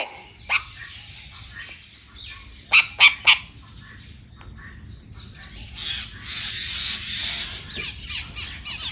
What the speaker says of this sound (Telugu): గొడవ పడుతున్నాయి పక్షులు